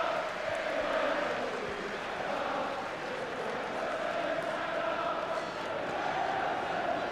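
Massive football crowd inside Old Trafford for Manchester United against Fulham in an FA Cup match, a steady distant roar and murmur filling the stadium at moderate level without distinct peaks.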